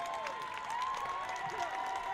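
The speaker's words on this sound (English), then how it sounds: "As another big round of applause by the Pioneer fans." Pioneer fans and parents applaud and cheer at a varsity field hockey state championship, a moderate crowd clapping under a commentator's voice and a high whistle-like tone.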